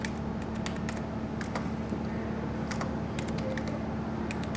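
A password is typed on a computer keyboard as quick, light key clicks in short irregular bursts. The clicks are close and fairly quiet over a faint steady electrical hum, with no talking.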